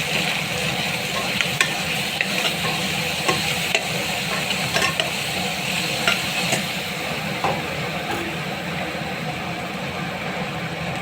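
Ginger paste sautés in a hot pan for black chickpea biryani, a loud, continuous sizzle with constant stirring scrapes and small crackling pops throughout.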